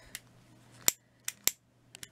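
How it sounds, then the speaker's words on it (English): Sharp scissors snip through the seal on craft material for making pansy-style paper flowers and leaves, giving a few crisp, close cuts spaced irregularly in a quiet room. "Have to be really careful with those scissors, they're quite sharp. So I'm just going to run the seal off"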